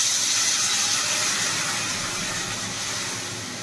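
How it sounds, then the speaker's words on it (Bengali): Water hits a hot pan while Bengali katla fish curry cooks, giving a steady, loud broadband sizzle and hiss that fades slightly toward the end, with no talking. "এবারে আমি কিছুটা জল দিয়ে দিলাম।"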